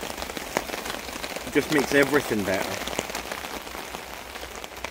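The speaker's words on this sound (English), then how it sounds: "and then sitting listening to the rain" Rain falls on a tarp over a woodland camp in northeast Scotland, a steady close patter of drops across the whole stretch while someone talks briefly over it.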